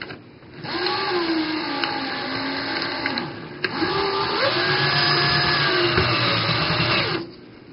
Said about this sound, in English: I then take the screwdriver, come up to my pilot hole,